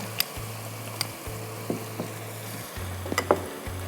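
Garlic paste frying in hot oil in a pan, a steady close sizzle with scattered pops and a few utensil taps, under a low repeating background hum.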